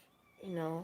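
A newborn kitten from a fresh litter lets out one high, thin, rising cry close by, right after a person speaks briefly.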